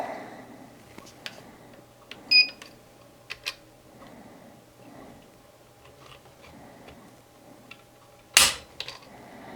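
A Lyman digital trigger pull gauge draws on the trigger of a new Bear Creek Arsenal Grizzly rifle, with faint small clicks and handling ticks in a quiet room, then one sharp, crisp snap as the trigger breaks.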